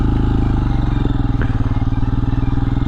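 Royal Enfield Scram 411 dual-sport motorcycle ridden slowly at low revs, its engine thumping in a steady pulse, with a brief clatter partway through.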